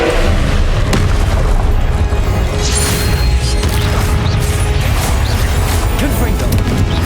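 A spell cast in Hogwarts Legacy, the Expelliarmus disarming charm, lands as a loud booming magical blast over dense continuous game effects and music, filling the whole moment with crashing, rumbling energy.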